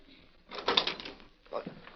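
A door is opened in an old radio drama, two short clattering bursts of a handle and latch heard fairly quietly in a hushed room.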